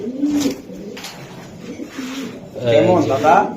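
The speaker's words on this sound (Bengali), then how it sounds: "এটা পাইট রেসার একটা নর কবুতর" A male racing pigeon of 2024 club stock coos in soft, low, rolling phrases close by, with a louder burst near the end and some background murmur.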